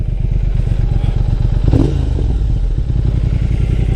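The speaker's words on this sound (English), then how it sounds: "And now burbles and now farts. It sounds like a proper exhaust now." Loud, close motorcycle idling with its exhaust silencers' baffles removed, a rapid, throaty pulsing exhaust, a brief scrape or clatter midway, steady throughout.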